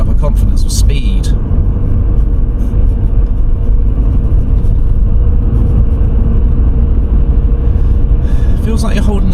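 A car on a rural country road during a driving lesson, shifting up toward fifth gear, produces a loud, steady low engine and road rumble from inside the cabin, with brief brighter noises near the start and end.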